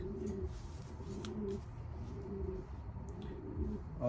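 A racing pigeon gives low, steady coos in several drawn-out phrases, close by over a quiet background, with a faint click partway through.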